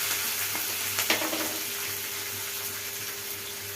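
Tempering of black gram lentils, chana dal, cumin and mustard seeds with chillies frying in hot oil, a steady close sizzle with a few sharp pops and spoon stirring, no voices.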